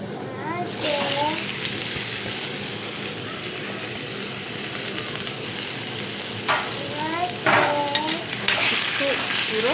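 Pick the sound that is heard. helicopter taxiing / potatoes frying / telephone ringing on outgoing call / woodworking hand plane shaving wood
potatoes frying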